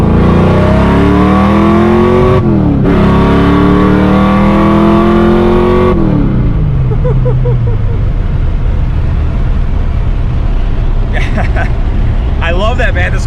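Supercharged 347 Foxbody Mustang with its exhaust partially open, accelerating hard from inside the car: a loud rising engine roar climbs through two gear pulls, then drops into a rumbling cruise, with brief voices near the end.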